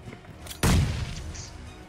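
Grenade blast in a battle royale mobile game, a single sudden loud boom followed by a decaying rumble, with faint game ambience before it.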